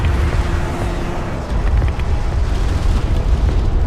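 Heavy cruise missile blast in the Homeworld: Deserts of Kharak strategy game, a loud deep rumbling explosion with booming low-end that rolls on for several seconds.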